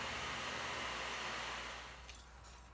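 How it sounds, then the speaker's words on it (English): Vacuum cleaner running indoors, a loud, steady broadband roar filling the space close by, easing slightly toward the end with a few faint higher clicks. "in front of a noisy vacuum"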